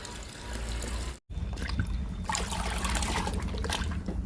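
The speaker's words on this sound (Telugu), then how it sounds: "రణపాల లిక్విడ్ని ఇండోర్ ప్లాంట్స్కి ఇచ్చేద్దాము ఇలా ఒక్కొక్క మొక్కకి ఇచ్చేయాలండి లిక్విడ్ని" Ranapala leaf liquid is poured onto indoor plants as a steady close trickle. The flow breaks off for a moment and then resumes and runs on continuously.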